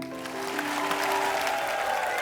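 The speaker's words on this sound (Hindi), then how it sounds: "एक बार प्रभु सर, तमन्ना और सोनू बाजी के लिए जोरदार तालियां" Studio audience at a comedy talk show clapping, a brief burst of applause under a musical tone, steady and moderately loud.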